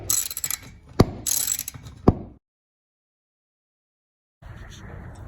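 Hand tool ratcheting as screws come off a garage door spring bracket on a Torquemaster system, a few close clicking bursts with sharp ticks, then silence before a faint hiss returns.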